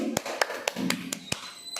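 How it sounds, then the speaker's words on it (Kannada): Applause from a small group, sparse and distinct, with about seven sharp claps in uneven rhythm, fairly close and soft, plus a faint voice underneath. "ಜೋರಾಗಿ ಚಪ್ಪಾಳೆ ಬರಲಿ"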